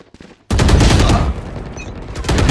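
Gunfire in the tactical shooter Valorant, a loud, close, sustained automatic burst that starts abruptly, dips briefly, then picks up again with rapid, tightly spaced shots.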